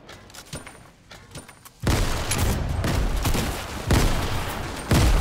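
Grenade explosions in Fortnite, a series of loud booming blasts after a quieter stretch with gunshots, heavy rumbling bursts that keep coming one after another.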